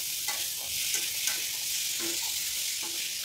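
Browned methi kadima sabji sizzles in a pan and gets stirred once the lid is lifted. A steady, fairly soft frying hiss runs throughout, with faint spatula scrapes now and then.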